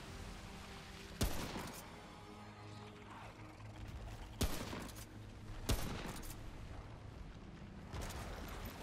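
Gunfire erupts during a boss fight in the video game Remnant: From the Ashes, with sharp, loud shots in separate bursts over a low, rumbling battle backdrop. Each blast rings out and fades before the next.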